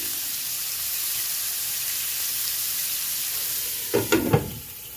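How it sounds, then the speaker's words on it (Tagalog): Pork browning in a hot pan gives a steady, close sizzling hiss throughout, broken near the end by a few quick stirring clatters. "Hayaan natin mag-brown dyan o maluto"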